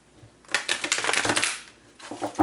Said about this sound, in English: this deck is actually very difficult to shuffle